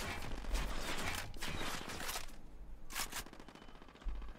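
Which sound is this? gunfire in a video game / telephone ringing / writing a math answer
gunfire in a video game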